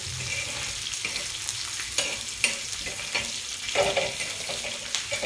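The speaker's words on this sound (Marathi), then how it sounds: "हे छान तेलामध्ये परतून घ्यायचं." Green chilies sautéing in hot oil for besan, a steady sizzle and crackle close up with occasional stirring scrapes and clinks, no talking.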